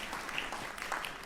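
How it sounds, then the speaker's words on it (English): Audience applause for a Mozart performance at a music talk, a steady dense patter of clapping filling the short moment without pause. "Yeah, you can applaud Mozart."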